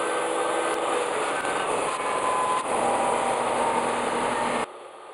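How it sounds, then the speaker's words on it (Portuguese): Power saw cutting a piece of wood to size while making a wooden clamp, a loud, steady whining buzz that holds throughout and then drops abruptly as the cut ends. "Com o goniômetro em 90 graus, cortei o excesso da madeira."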